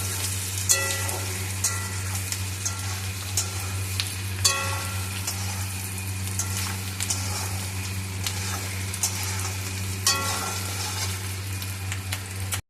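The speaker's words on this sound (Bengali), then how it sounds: "এবার আমি একটু নাড়াচাড়া করে নেব।" Chili chicken sizzles steadily in a hot pan while being stirred, a constant close frying hiss punctuated by several sharp scraping clicks of the utensil against the pan.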